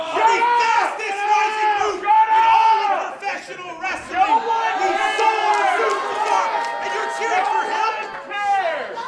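Wrestling crowd at a student showcase reacting loudly to a superstar in the ring, a swelling mass of shouting and jeering voices that rises and falls in waves, with a commentator's voice running over the top.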